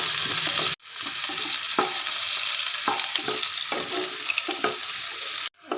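Onions fry in a hot pan with a loud, steady sizzle, broken by a few stirring scrapes and two brief silent cuts, and no voice over it.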